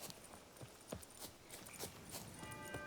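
Roach the horse's hooves clip-clopping at a walk in The Witcher 3, a steady series of close, crisp hoofbeats alone over quiet ambient game background.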